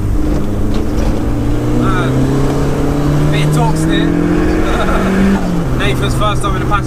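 A 38-year-old Mk1 Ford Fiesta Supersport pulling hard in fourth gear, engine note rising steadily as it accelerates, loud and close from inside the cabin, with people talking over it.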